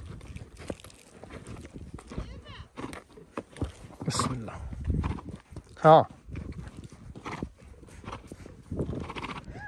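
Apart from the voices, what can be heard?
horse neighing and hooves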